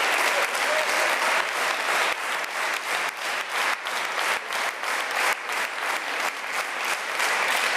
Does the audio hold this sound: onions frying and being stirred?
no